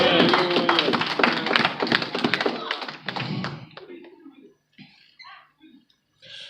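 A church congregation during a sermon claps in a loud, dense burst that thins out and fades after a few seconds into scattered taps and faint voices.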